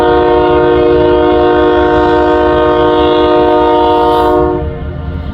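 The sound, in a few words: eastbound Union Pacific loaded coal train passing, horn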